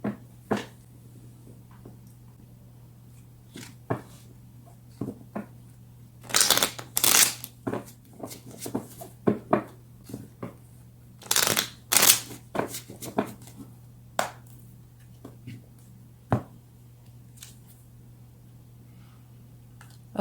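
Tarot cards being shuffled for a single draw, with short bursts of riffling and sliding card noise around two louder clusters, quiet pauses between, and a steady low hum underneath.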